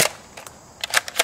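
A Nerf gun fires a few sharp, light pops: one at the start, then a small cluster of snappy shots near the end, close and fairly crisp with quiet gaps between.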